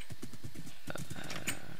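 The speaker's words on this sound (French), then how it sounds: "Par contre il saute pas très haut ce cheval." Horse sounds from the Minecraft video game, a quick series of hoof-like clip-clops followed by brief higher whinny-like calls, fairly quiet and close.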